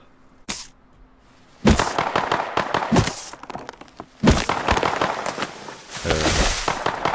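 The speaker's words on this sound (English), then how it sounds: "People are shooting over there." Gunshots in the survival game Rust, sharp broadband cracks in scattered bursts with some heavier thumps and denser crackling toward the end, fairly loud over a quiet background.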